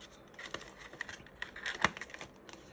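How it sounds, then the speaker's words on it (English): Dollar bills are folded and slipped into a paper envelope, producing soft, close crinkles and scraping rustles with a few sharper paper snaps, and no voices. "Let me fold this up nice and neat. Let me place it in this envelope."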